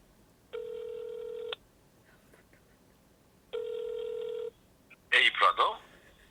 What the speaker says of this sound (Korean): 컬트에게 전화를 해보도록 하겠습니다